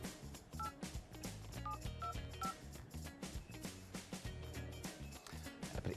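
Telephone dialing tones as a call is placed during a prize game show, a quick run of keypad beeps heard over loud, busy background music.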